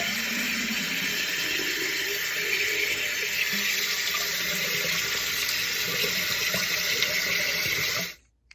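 Tap water runs steadily into a SodaStream Fizzi bottle as it fills to the line, a continuous loud rushing that stops abruptly at the end.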